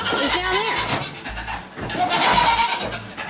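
Goats bleating loudly in a pen, several overlapping calls repeating throughout, close and insistent with some human talk mixed in.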